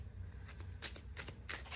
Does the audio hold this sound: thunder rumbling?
no